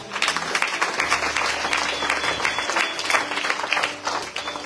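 A church congregation applauds to acclaim the Lord, a dense, steady wash of many hands clapping together at close range that carries on without a break throughout, with no talking over it.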